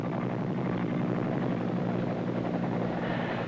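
A military helicopter flying troops in a ground war, its steady rotor and engine drone filling the air loudly and continuously with no pauses.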